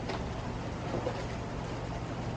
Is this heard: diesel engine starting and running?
yes